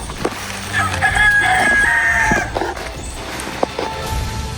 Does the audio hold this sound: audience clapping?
no